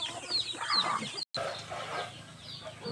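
Loose chickens and tethered roosters on a Leyte farm, clucking and calling near and far in overlapping bursts over a steady outdoor background, with a brief dropout midway.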